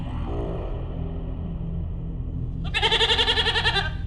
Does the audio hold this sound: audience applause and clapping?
no